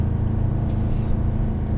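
A 2020 Nissan Titan pickup with a nine-speed transmission downshifts and holds around 3,000 RPM, its engine and exhaust giving a steady, deep, close rumble with no voices.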